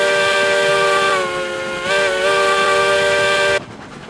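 A steam locomotive in the railroad video game RailRoads Online blows a long, steady whistle that dips briefly and resumes before cutting off abruptly, leaving a faint background hiss.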